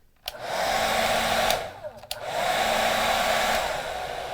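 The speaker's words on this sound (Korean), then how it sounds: "저는 집에 있는 드라이기를 이용해서 좀 빨리 말려 볼게요" A household hair dryer blowing to dry wood glue on a wooden cube marionette, a steady close whooshing roar that cuts off briefly with clicks and then resumes.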